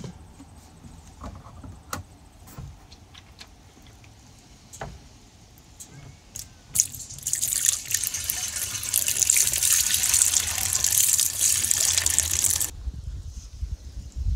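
Freshly pressed apple juice streams and drips through a filter during home juice canning, a steady watery pour that swells loud and full midway, preceded by quieter trickling and small clinks.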